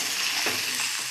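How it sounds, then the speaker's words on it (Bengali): Potatoes fry for aloo bhaja in a pan with a steady, close hiss of hot oil and a brief stir partway through. "আর এখন আমি বানাতে বসেছি আলু ভাজা।"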